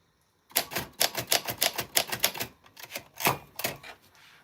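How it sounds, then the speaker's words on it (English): A working 1940s vintage typewriter is typed on, giving a close, crisp run of rapid key strikes in uneven bursts after a brief silence, then a few slower taps trailing off. "this is what a typewriter sounds like from the 40s"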